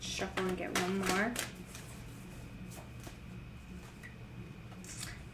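Quick crisp riffling of tarot cards, a few rapid flutters up close, followed by quieter shuffling against a background hum; a voice speaks briefly.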